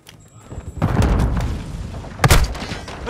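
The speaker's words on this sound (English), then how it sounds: "Throwing grenade!" A grenade detonation in the video game Call of Duty: Modern Warfare II erupts as a loud, deep boom with a long rumbling tail, followed by a sharp second blast near the end.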